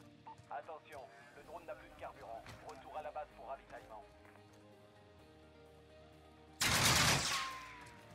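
A single loud sniper shot rings out in a video game, a sharp blast that rolls away over about a second. Voices talk in the moments before it.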